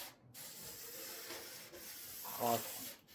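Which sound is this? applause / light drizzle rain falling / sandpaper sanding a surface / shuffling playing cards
sandpaper sanding a surface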